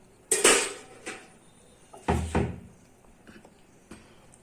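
A lid lifts off a cooking pot holding a resting sooji chocolate cake, giving two clear metallic clatters, the first at the start and a heavier one midway, followed by a few faint light knocks, with no talk.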